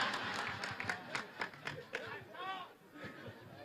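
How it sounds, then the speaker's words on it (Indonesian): Police officers clap at a religious gathering in Malang, producing a quick run of sharp, fairly close hand claps over a murmuring crowd and a talking voice. "Kayaknya Pak Polisi tepuk tangan."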